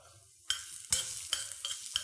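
Garlic frying in a pan for a fiddlehead dish, stirred with a few sharp scrapes over a steady close sizzle, with no talking.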